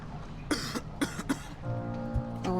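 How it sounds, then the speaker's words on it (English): A person coughs in several harsh, close bursts during a horror game session, followed by a steadier strained vocal sound. "am I still fucking coughing?"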